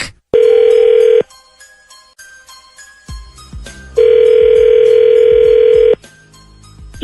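A telephone rings on a radio show with two long, loud electronic ring tones separated by a short pause, then a bit of faint background noise.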